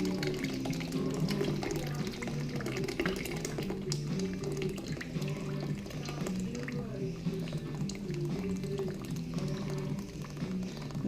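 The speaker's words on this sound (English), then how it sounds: "press it through the sieve, make it nice and smooth." Hot blended tomato soup is pushed through a sieve, sloshing and splashing steadily while a voice talks over it.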